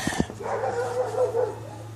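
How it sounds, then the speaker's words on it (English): Dogs barking in a workshop: a couple of sharp barks at the start, then a whining, yelping drawn-out sound over a steady low electrical hum. "Bloody dogs."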